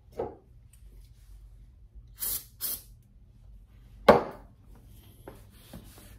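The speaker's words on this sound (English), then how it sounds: "So I'll just do one final pass with the brake cleaner and get that all cleaned off right there." Brake cleaner sprays in short hissing bursts onto the clamp and lockout parts of a racquet stringing machine, two quick spurts and then a sharper clack and spray, close up with quiet gaps between.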